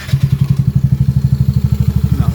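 A Honda Navi motorcycle engine running just after starting, with a loud, close, rapid and steady low thumping putter.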